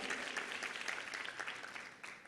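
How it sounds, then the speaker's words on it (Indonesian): A church congregation claps together in sustained, steady applause that sounds fairly distant and soft throughout. "Kurang kuat, tepuk tangan dan sungguh-sungguh untuk Tuhan Yesus"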